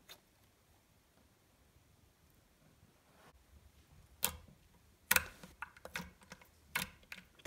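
A smiley-face slime squeezed by hand gives scattered, sharp little clicks, quiet at first and then a cluster of louder snaps close by over a near-silent background.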